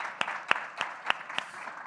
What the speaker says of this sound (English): Somebody get out a hand clap.